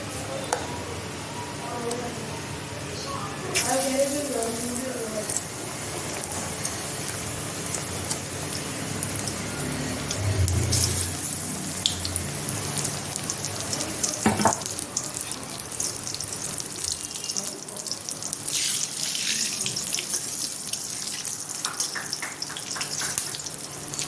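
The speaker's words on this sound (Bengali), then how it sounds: "এখানে তেল গরম হয়ে গেছে আমার, বেগুনিগুলো একে একে ছেঁকে নেব।" Aubergine fritters (begun pakora) fry in hot oil with a steady, dense crackling sizzle that runs throughout, broken by a few sharper splashes and clinks, with a voice faintly present at times.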